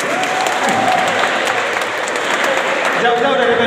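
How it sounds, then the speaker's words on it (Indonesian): An audience at a House of Prayer class session breaks into loud, sustained clapping that fills the short moment, with crowd voices mixed in. "Tepuk tangan dong."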